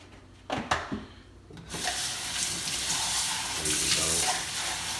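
A container is washed out under a running faucet, a few knocks and handling sounds first, then a steady close stream of water filling and splashing.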